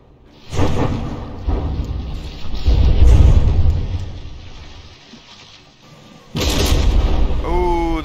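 Battleship artillery fire and shell hits in the From the Depths naval combat game, a series of heavy booming blasts with rumbling decay, the loudest burst arriving near the end, mixed with some talk.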